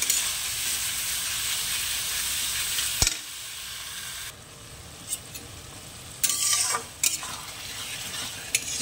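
Small fish stirred into onion masala for a fried onion chorchori, giving a steady quiet sizzle with sharper bursts of spoon scraping and stirring alone.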